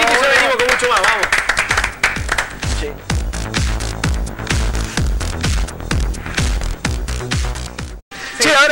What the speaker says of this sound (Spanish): Andrea Pérez Simondini, un aplauso para hablar de los ovnis